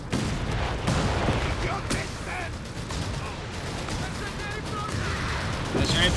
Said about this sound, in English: There we go, rocket strike here, severing Tushkan's lines, clearing out support weapons.